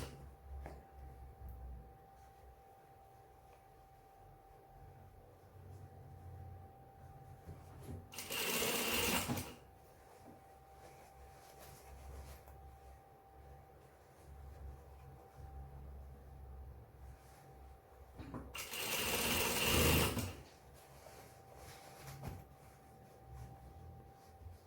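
A sewing machine stitches a pair of pants with a soft, steady mechanical whir, broken twice by short, louder bursts of rattling stitching.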